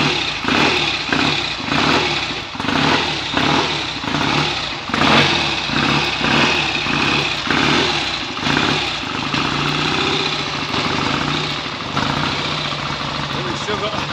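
A freshly rebuilt BSA A65 motorcycle engine runs on its first start, holding a steady, throbbing idle with rhythmic pulses and occasional slight revs, loud and close throughout.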